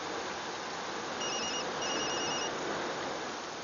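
A phone rings faintly in two brief electronic bursts, nearly buried under a steady broadband hiss, with no voices.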